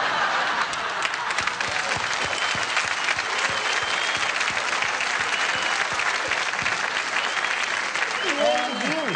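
A live audience claps in a dense, sustained burst of applause that fills the room loudly and evenly for the whole stretch, with a few scattered chuckles and a voice emerging near the end.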